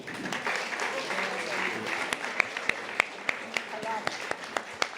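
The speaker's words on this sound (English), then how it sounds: "it's a big round of applause for Dr. Matilda House" An audience applauds Dr. Matilda House at the First Nations Media Awards, a steady wash of clapping with sharp individual claps popping out near the mic, while a voice talks over it.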